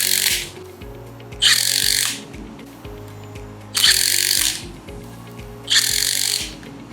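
A power tool partially tightens bolts on a Sicame MecaSplice mechanical tension repair splice in an outdoor yard, whirring in three distinct loud bursts about two seconds apart with quieter gaps between.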